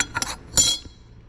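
Metal strainer parts for a combi espresso machine clink into oil funnels, a few quick bright metallic taps close by, the last one the loudest, then quiet.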